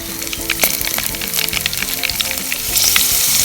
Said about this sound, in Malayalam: കുറച്ച് കാന്താരി മുളകും കൂടെ എണ്ണയ്ക്കകത്ത് ചേർക്കണം